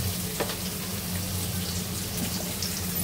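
Vegetables frying in mustard oil in a home kitchen pan, a steady dense sizzle with a faint low hum underneath, close and continuous throughout.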